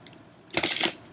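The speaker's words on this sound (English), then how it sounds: "Shuffle and cut for the element, please." Tarot cards shuffled and cut by hand, a short burst of dense riffling that rises suddenly, holds for about a third of a second and then stops, close and fairly loud with no talk over it.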